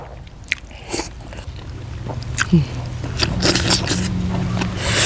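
Someone biting and chewing a boiled egg up close, with a few crisp bites followed by soft, wet chewing over faint background noise and no clear speech.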